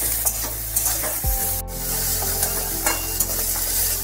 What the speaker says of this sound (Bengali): হালকা করে একটু ভেজে নিতে হবে, তাড়াতাড়ি যাতে নরম হয়ে যায়